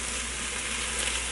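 Dirty rice ingredients sizzling in a Ninja Foodi while being stirred, giving a constant close hiss of frying with no pauses or voices.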